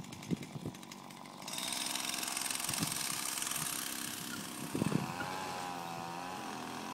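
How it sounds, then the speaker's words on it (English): Petrol string trimmer running nearby, its buzzing motor whine kicking in after about a second and a half and continuing steadily, with a few dull thuds scattered through the clip. "Right, so someone's strimming."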